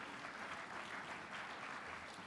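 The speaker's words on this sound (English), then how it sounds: "you deserve to give yourselves a round of applause" Audience applause fills the room at a broadcasters' hall of fame gala in Nevada, a steady dense wash of clapping that stays even and moderately loud for the full stretch, with no talk over it.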